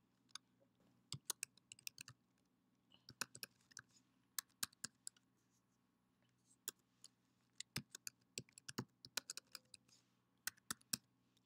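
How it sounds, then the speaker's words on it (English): Keys clacking on a computer keyboard as a new Apple ID password is entered, short bursts of crisp close clicks with pauses between, over a low steady room hum. "So they ask you to type the new password."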